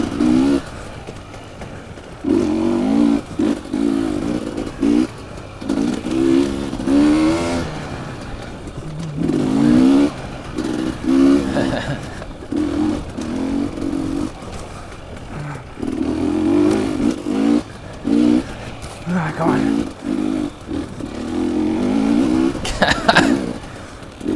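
Race car engines in the TORCS racing game whine and rev in repeated surges, pitch climbing and dropping through gear changes over a lap, loud and close with short gaps between bursts.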